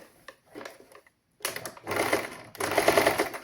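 A sewing machine stitches the front panel of a frock with a half-inch seam, running in a few close rattling bursts with brief pauses between them.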